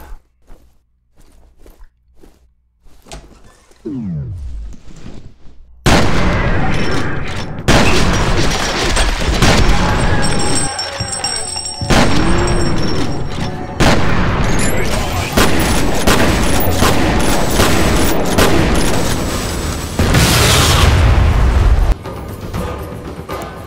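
Gunfire and explosions in the shooter game F.E.A.R. Extraction Point: after a quiet start, a loud, dense stretch of shots, booms and crunching impacts runs almost continuously, with brief lulls, alone without talk.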